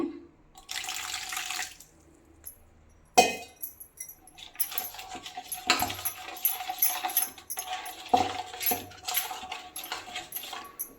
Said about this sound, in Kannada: ಸ್ವಲ್ಪ ಲೈಟಾಗಿ ನೀರನ್ನು ಹಾಕೋಬೇಕಾಗುತ್ತೆ